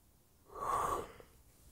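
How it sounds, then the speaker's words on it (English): A single massive yawn, a breathy swelling exhale that rises and fades over about half a second, close and fairly soft, with no talking. "Massive yawn."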